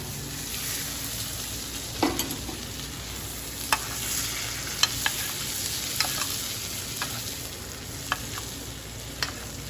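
Halibut pan-searing in butter gives a continuous loud sizzle close by, dotted with scattered sharp crackles and pops.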